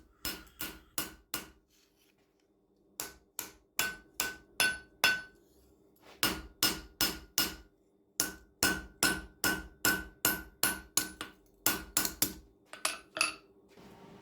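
A hammer strikes a steel knife blade during forging in rapid rhythmic runs of sharp ringing blows, pausing briefly between bursts, loud and close.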